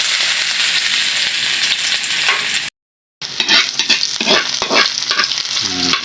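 Sliced onion and garlic sizzling in hot oil in a pan, a loud steady frying hiss with stirring scrapes and clatter, briefly cut to silence midway, no talking.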